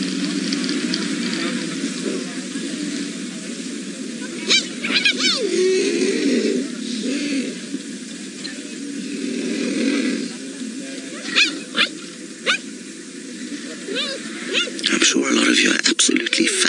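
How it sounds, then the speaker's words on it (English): Cheetahs chirp and purr-like call close by during a kill on safari, with bursts of higher squeaky calls scattered through, over a continuous low rumbling background. "fascinated by the sounds you're hearing coming out of these cheetah."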